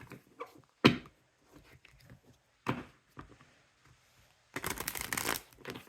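Playing cards are shuffled in a few quick riffling bursts separated by quiet pauses, ending with a longer, louder riffle close by.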